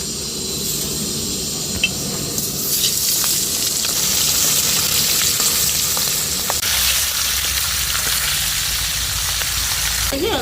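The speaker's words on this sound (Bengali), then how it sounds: "এবার মাছের মাথাটা কড়া করে ভেজে নেব" A fish head fries crisply in hot oil in a wok, giving a loud, continuous sizzle with light spatter and a few soft clinks, alone and without speech.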